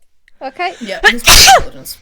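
A single loud, sharp sneeze bursts out near the mic between stretches of casual conversation, with people talking just before it.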